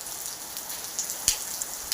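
Downpour in Nellore heard as a continuous even hiss of rain with occasional close drips and a couple of sharper drop impacts, no talking.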